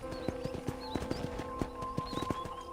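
A horse from the video game Red Dead Redemption is ridden on a ranch, its hooves clip-clopping in a steady trotting rhythm with distant bird calls behind it.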